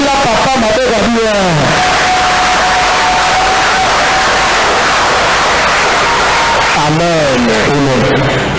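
A church congregation cheering and acclaiming at a Sunday service, loud crowd roar filling the whole stretch, with shouted voices rising at the start and end.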